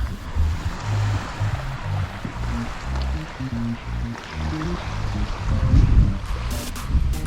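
Surf washing onto a fishing beach beside Learmonth Jetty near Exmouth, a steady, fairly loud rush of breaking waves that swells toward the end, with no voices.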